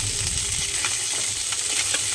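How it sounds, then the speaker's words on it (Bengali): Fish frying in a small amount of oil in a home kitchen, a continuous close hiss and crackle with no talking. "আর বাকি মাছ এই যে ভাজছি। আমি অনেক কম তেলে রান্নাটা করি"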